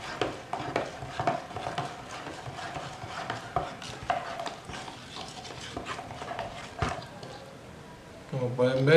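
Talc and water mixed in a container with quick, repeated scraping strokes of a stirring tool, close and fairly quiet, under someone speaking.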